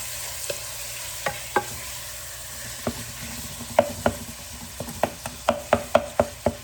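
Ground beef browning in a pan for homemade ravioli sizzles steadily, with a spatula scraping and tapping against the pan, sparse at first and then in quick repeated strokes toward the end.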